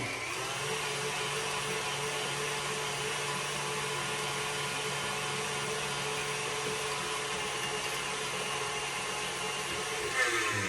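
A close electric mixer runs on high, blending flour into lemon cake batter with a steady, unbroken whirring drone that holds at an even level throughout.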